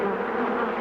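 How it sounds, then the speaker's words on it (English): A swarm of Africanized killer bees buzzing in Brazil, a dense, loud, continuous drone of many wings close by, lasting under a second. "500 bees or so have already come out."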